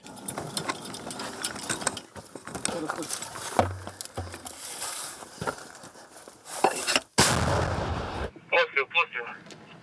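An artillery gun fires with a loud, heavy boom that stands out over a rough outdoor background at a war front. Voices talk before and after the blast.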